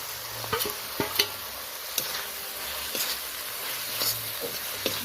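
Ground spices frying in oil in a pan for a bhetki fish curry with cauliflower, a soft continuous sizzle broken by periodic scraping stirs of a spatula, close and fairly quiet, with no talking.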